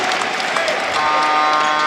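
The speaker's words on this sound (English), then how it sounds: "You see the crowd cheering him up" A crowd at a professional basketball game in Taipei cheers and claps after an and-one, a loud and dense burst of roaring noise that an announcer's voice overlaps.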